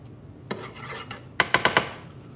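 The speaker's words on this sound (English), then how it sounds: "Now I'm going to move the sauce to the back burner and just keep it on the simmer." A metal pan of sauce clanks and scrapes as it is moved to the back burner of a stove, a few soft knocks followed by a quick run of sharper metallic clicks, near and alone.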